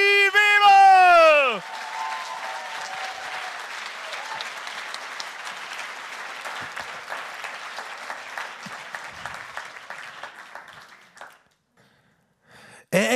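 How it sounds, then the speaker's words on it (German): Warm applause from a poetry slam audience in Wolfsburg for a performer from Münster, rising after a brief tone and continuing as steady, lively clapping before dying away into near silence. "Macht mal einen riesigen Applaus aus Niedersachsen für den Mann aus Münster"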